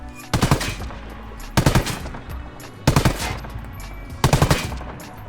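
A Stoner machine gun in Ghost Recon Wildlands fires four short, loud bursts of several rapid shots each, separated by brief pauses, with no talking.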